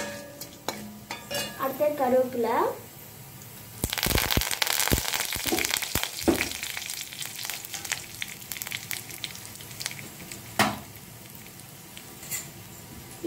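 Urad dal is dropped into hot oil in a pan for mint chutney seasoning, giving a burst of crackling sizzle and spatter with stirring scrapes, fading to a softer fry as a voice speaks briefly.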